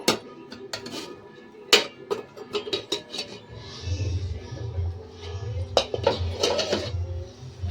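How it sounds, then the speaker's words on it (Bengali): A metal lid lifted off a pot of simmering potatoes in a home kitchen, with several sharp clinks and clatters of metal cookware up close, followed by a soft bubbling hiss from the pot. "ঢাকনাটা এবার তুলে নেব"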